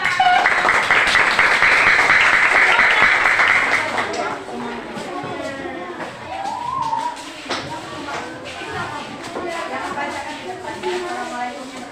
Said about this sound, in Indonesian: Ayo, silakan maju, beri tepuk tangan.